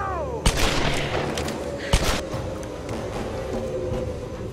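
Two sharp gunshots from the video game Tomb Raider crack out about a second and a half apart over a steady rumbling game background.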